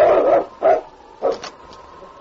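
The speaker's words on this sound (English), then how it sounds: "jumped and barked before the door" A large dog jumps and barks before a house door in an old radio drama, three short separate barks spaced over a couple of seconds, fairly close and clear.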